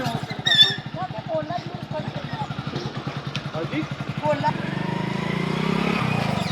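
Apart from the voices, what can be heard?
motorcycle riding and turning in second gear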